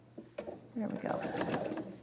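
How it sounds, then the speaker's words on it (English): A sewing machine stitches a fabric seam in short whirring bursts that then settle into a steady run, with a voice talking over it. "I'm going to just sew that seam"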